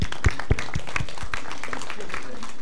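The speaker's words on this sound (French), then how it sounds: "Applaudissons." Audience claps after a talk at a Paris Descartes medicine faculty session on organ donation and faith, a few loud close claps at first, then a steady patter mixed with a voice speaking over it.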